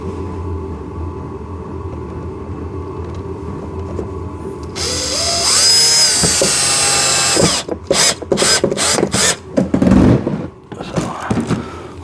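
A power drill drives a screw into a part of a 24-volt two-seater 4x4 ride-on car for kids: loud, close whirring in a sustained run, then choppy bursts of drilling with rattling.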